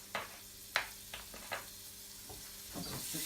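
Butter melts in a frying pan with a soft, quiet sizzle, broken by a few sharp clicks and taps of utensils against the pan.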